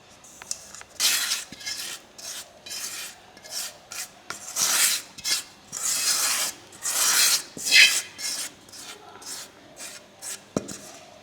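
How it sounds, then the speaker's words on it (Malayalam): Homemade ghee is squeezed through a cotton cloth, making repeated rough rubbing and wringing swishes in uneven bursts, close and moderately loud, with no talk. "അത് കുറച്ചൊന്ന് പിഴിഞ്ഞു കൊടുക്കാം. ഇതിൽ തുണിയിൽ കുറച്ച് നെയ്യുണ്ടാവും."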